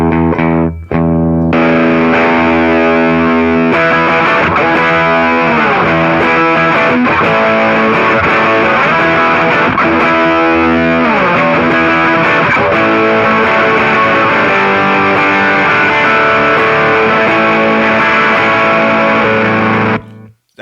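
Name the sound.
Roadkill fuzz pedal on SG guitar, treble maxed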